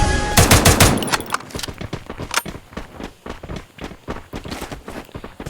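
Rapid gunfire from a weapon in the video game Free Fire, a loud dense burst at the start followed by a string of sharper separate shots and clatter.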